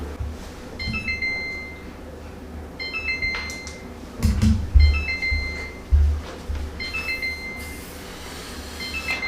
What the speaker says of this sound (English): Our 30-minute timer is going off